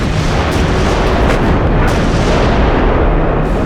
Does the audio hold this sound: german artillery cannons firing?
yes